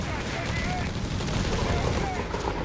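Dense, continuous machine gun fire in Company of Heroes 3 during a 2v2 battle, a loud, busy rattle of rapid shots mixed with other battlefield noise.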